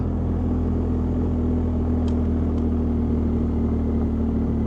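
A motorcycle idles while warming up on a 43-degree morning, a loud, steady, low engine hum with no change in pitch and faint clicks in the background.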